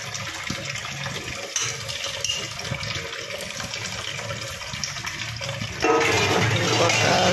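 Dishes being washed under a running tap after a meal at home, water splashing and gushing steadily for several seconds, then the flow growing louder and brighter near the end.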